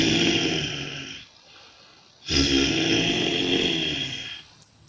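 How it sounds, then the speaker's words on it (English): A person snoring while asleep, two long rasping snores with a quiet breath in between, loud and close, each a rough rumbling drone held for over a second. "Snoring is that embarrassing and horrible noise made while you are sleeping."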